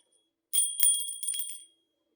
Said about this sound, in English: I've got lots of bells,